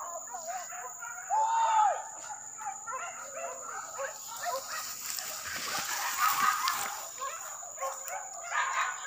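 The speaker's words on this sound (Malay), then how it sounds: "Anjing." A dog yips and whimpers during a wild boar hunt amid a busy outdoor background of birds and insects, with people talking nearby.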